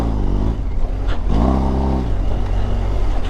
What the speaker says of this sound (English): see how I open the throttle all the way and the motorcycle